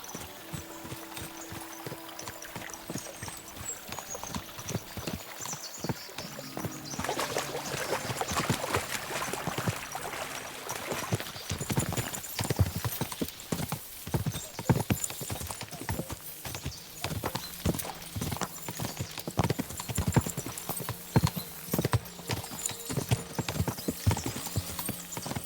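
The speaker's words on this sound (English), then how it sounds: "As soon as we cross the stream, we'll give the horses a gallop again." Horses in the medieval game Kingdom Come: Deliverance II splash across a stream, then break into a galloping clip-clop of hooves that grows louder and faster, with an occasional whinny and running water beneath.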